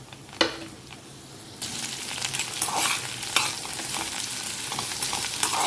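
Chopped onion sizzles and crackles in hot oil in a pan and is stirred, a steady frying hiss broken by scraping stirs, close and fairly loud with no talking.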